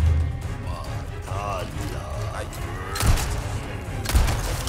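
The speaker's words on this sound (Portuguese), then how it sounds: "Cara, esse foi o tiro mais rápido que eu já dei na vida agora." Sniper rifle shots in Resident Evil 4 Remake, two sharp bursts close together over steady game ambience, with someone talking over the action.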